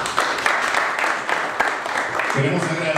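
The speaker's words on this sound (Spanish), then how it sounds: "y damos nuevamente fuerte el aplauso para él." Applause for a player at an amateur home run derby in Coamo, a steady wash of clapping with a few sharper hits, a voice speaking over it from a loudspeaker.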